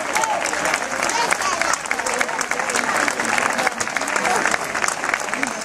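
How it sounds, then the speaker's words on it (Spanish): Audience applause at an awards ceremony for a 10K race, a dense, steady wash of clapping from a crowd, with someone talking over it. "¡Venga ese aplauso!"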